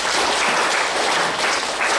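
Applause from a congregation at a GSKI Teleios church service, a dense steady wash of many hands clapping for the full two seconds, loud and continuous with no break.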